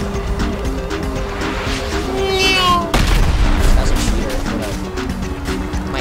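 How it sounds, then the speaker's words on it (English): Rockets burst in a loud, booming blast amid dense gunfire and engine noise during a GTA 5 Online firefight, the explosion hitting hard midway and rumbling on under continuous chaotic game sound. "stop shooting rockets at me"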